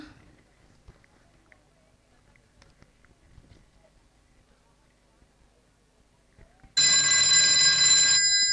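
A telephone rings loudly near the end, a continuous electronic trill that starts abruptly after a stretch of quiet room noise, during a stage play at a school annual function.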